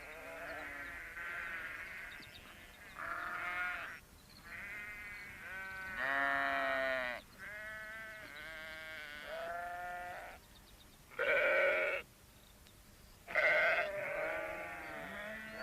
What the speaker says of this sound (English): he saw the sheep in the garden